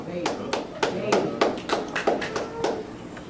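An audience claps at a gathering in a series of uneven, fairly close claps and taps, mixed with a voice speaking over them.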